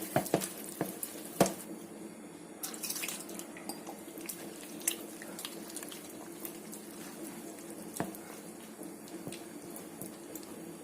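Water trickles and splashes faintly as it is poured little by little into jalebi batter and mixed by hand, with soft wet stirring, scattered drips and a few sharper clinks over a steady low background hum.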